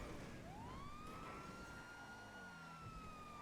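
Police siren wailing in a GTA roleplay game, a rising then steady electronic tone carrying faintly over continuous background noise.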